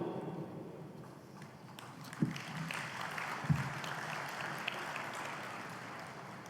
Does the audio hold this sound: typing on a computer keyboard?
no